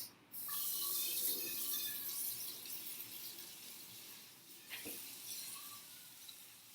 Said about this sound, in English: Now I'm going to rinse out the pan,